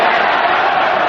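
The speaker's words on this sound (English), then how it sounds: "Crowd chanting, "Here we go, here we go."" Boxing fans at Queens Park Rangers football ground, at the Barry McGuigan vs Eusebio Pedroza fight, chant loudly together in a steady, dense roar that fills the arena.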